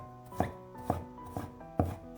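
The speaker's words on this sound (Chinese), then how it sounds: "半块生姜先切成薄片，再改刀切成细丝， 最后切成姜末" Knife on a cutting board chopping half a piece of ginger into fine mince, four evenly spaced, solid knocks close up with nothing else sounding.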